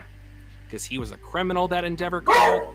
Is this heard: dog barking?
yes